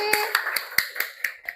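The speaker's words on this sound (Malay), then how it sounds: "Tepuk tangan untuk Zikri." A handful of sharp hand claps by children in a loose, uneven rhythm, close by, over a faint background tone.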